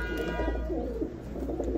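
Fancy pigeons, including Red Lahori birds, coo softly and repeatedly at close range in a loft, with a low steady hum in the background.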